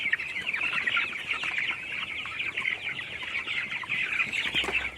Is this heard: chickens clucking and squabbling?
yes